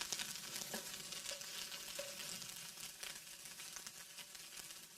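Potatoes and peppers sizzle steadily on a hot griddle alongside charred onions, a dense, continuous crackle close by with occasional stirring scrapes, no talking.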